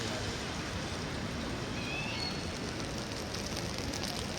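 Rain falling in Paris near the Louvre, a dense, even hiss of drops on surfaces heard up close and steady throughout.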